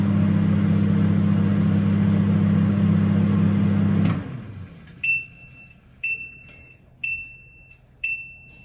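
A microwave oven heating water runs with a steady low hum, then stops abruptly and gives four evenly spaced, loud, high completion beeps about a second apart.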